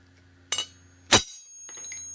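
A hammer strikes a steel chisel and punch twice, two sharp metallic clinks with a ringing tail, followed by a couple of lighter taps close by.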